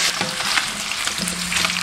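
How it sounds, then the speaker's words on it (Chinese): Pork belly stir-fries in a little hot oil in a wok, a loud, close, continuous sizzle and crackle with brief scraping stirs as the meat is turned, and no talking. "锅中倒少许食用油，油热过后下入五花肉煸炒。"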